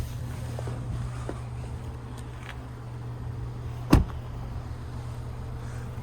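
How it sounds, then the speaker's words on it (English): A single sharp mechanical clunk of a 2021 BMW X2's rear door unlatching, close by, over a steady low engine hum with no talking. "I'm gonna open the rear door again."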